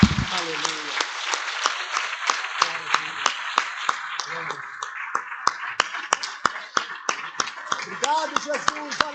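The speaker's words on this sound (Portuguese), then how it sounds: "Por isso nós queremos te aplaudir agora," Worshippers at a church service clap in a steady rhythmic beat, sharp distinct claps repeating for the whole stretch beneath a continuous voice.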